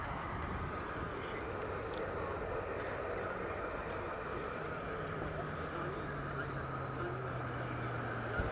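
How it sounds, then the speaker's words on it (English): A United Airlines Boeing 777 passes overhead as a constant, moderately distant jet rumble with a low droning tone that slides slightly in pitch midway, no talk over it. "looks like we are currently looking at United Airlines Boeing 777 flying over"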